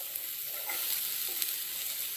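Green chillies drop into hot oil and fry with a steady, close, even sizzle that crackles softly throughout, with no voices.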